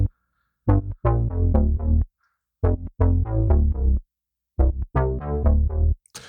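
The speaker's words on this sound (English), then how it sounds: "So my bass line down here sounds like this." A synthesizer bass line played in Ableton through the TAL-U-NO-LX plugin repeats rich, buzzy, harmonic notes in short phrases, with clear silent gaps between groups of punchy hits.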